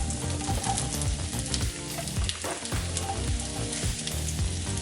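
Mushrooms sizzle in a single layer in a hot pan, left unstirred to brown, a steady close crackle and hiss with no talk.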